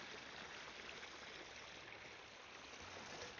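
Steady, faint rush of irrigation water pouring from a hole in a line, a continuous even wash of flow with no voices.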